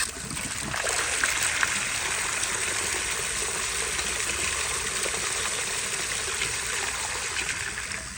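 A miniature prototype Berlin toilet flushes receipt paper away in a steady rushing wash of water that runs evenly for about eight seconds at close range.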